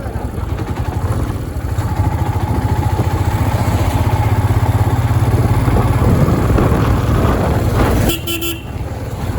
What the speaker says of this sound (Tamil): நல்லா ஸ்மூத்தாக இருக்குது வண்டி ஓட்டுறதுக்கு. Third gear.